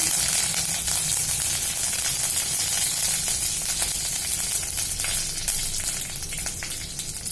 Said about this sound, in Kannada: ಈಗ ನಾನು ಸಾಸಿವೆ ಹಾಕ್ತಾ ಇದ್ದೀನಿ. ಎಣ್ಣೆ ಕಾದಿದೆ. ಕರಿಬೇವಿನ ಸೊಪ್ಪು ಹಾಕ್ತಾ ಇದ್ದೀನಿ.